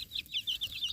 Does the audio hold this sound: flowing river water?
no